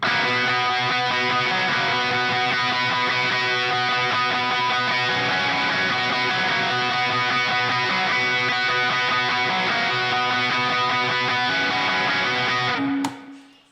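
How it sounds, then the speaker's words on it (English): A Jazzmaster electric guitar plays a lead line with echo and reverb over a full, loud band backing that carries steadily before cutting off near the end. "That was with the Jazzmaster with a little bit of echo and some reverb."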